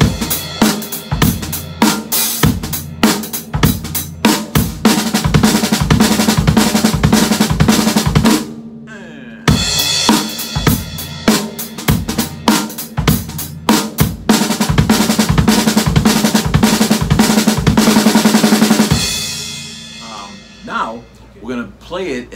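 A drum kit plays a lick as sixteenth-note triplets over a hip-hop and swing funk groove, with dense, loud, close hits and a short pause partway through before the pattern resumes and trails off.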